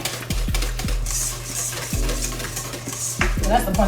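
A whisk stirs lemon icebox pie filling in a bowl, with steady scraping and repeated clinks against the bowl's sides in an irregular rhythm, close and moderately loud, with no one speaking.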